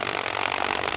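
An electric drill spins lightly at low trigger pressure, giving a steady, continuous buzzing whine that stays even and fairly loud for the whole second with no talk over it.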